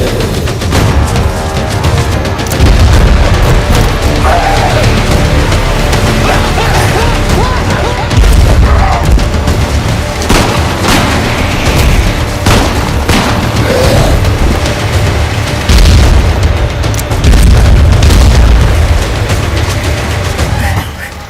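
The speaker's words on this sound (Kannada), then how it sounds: "ಇಲ್ಲಿ ಬಾಂಬ್ಗಳು ಇಟ್ಟಿದ್ದಾರೆ, ಹುಷಾರಾಗಿ ಹೆಜ್ಜೆ." Bomb explosions in a zombie movie: loud, heavy booms and crashing blasts roll one after another across the whole stretch, with deep rumbling bass that barely lets up.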